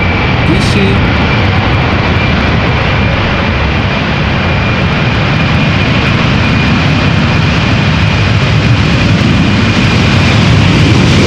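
A United Boeing 767-400 airliner at Amsterdam Schiphol, its jet engines giving a loud, continuous roar that stays steady and close for the whole stretch.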